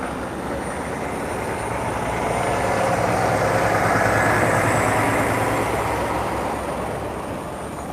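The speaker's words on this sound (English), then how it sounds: "this is a methane tanker coming in here, going to offload" A methane tanker truck rolls in to offload, its heavy diesel engine swelling steadily louder as it draws near and then easing off slightly, a broad continuous rumble with no talk over it.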